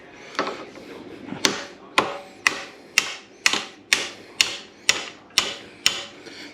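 Hammer blows on a swing arm bolt of a 2020 Yamaha MT-03 during a swing arm replacement, about eleven sharp metallic strikes in a fairly steady rhythm, close and loud, each with a short ringing decay.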